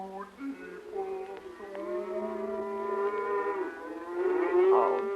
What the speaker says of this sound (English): It's only the cows. They're driving them home now.